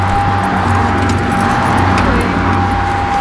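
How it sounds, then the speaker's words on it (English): Car keys jangle while stuck in a car's ignition, a close metallic rattle with a steady electronic warning tone sounding throughout, over a low engine-like hum. "But my keys won't come out."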